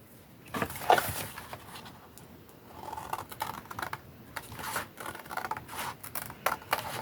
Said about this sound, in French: maintenant je viens couper de ce côté